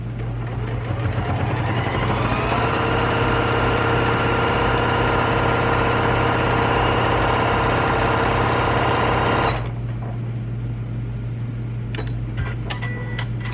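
An Elna Elnita EF72 sewing machine runs a steady straight stitch through a Kona cotton and batting quilt sandwich at up to 1,000 stitches a minute, a fast continuous mechanical whir for about ten seconds before stopping, followed by a few light clicks.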